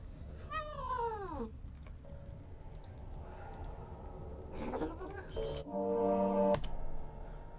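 One clear, close meow from a house cat opens, followed by quieter clicks, soft voices and a sustained humming tone in the background.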